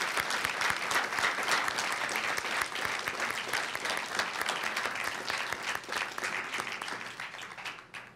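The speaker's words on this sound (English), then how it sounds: "Audience, let's give a warm round of applause to Graciano Gomez and his family and friends" An audience at a school board meeting gives a warm round of applause, steady dense clapping for about eight seconds before tapering off at the end.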